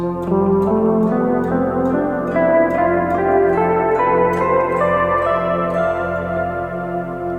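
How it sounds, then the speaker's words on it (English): Bright, dreamy guitar music in F Lydian mode with ringing chords and melodic notes, played steadily and clearly at moderate volume with no talking. "F Lydian is pure magic."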